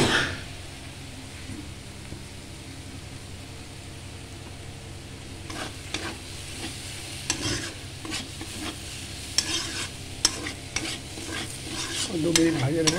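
Coconut pitha filling fries in a pan with a soft, continuous sizzle, joined midway by scraping strokes of stirring that come in irregular, louder bursts.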